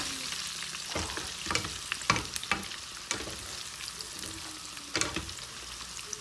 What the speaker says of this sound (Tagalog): Maglagay na din po tayo ng bawang para po mas mabango pa ang ating niluluto.